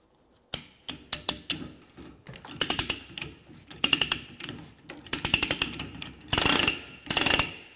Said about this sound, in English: We keep going until the pipe appears at the last tooth of the die